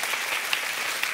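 A church audience claps steadily, a dense, even patter of many hands filling the whole short moment at moderate level.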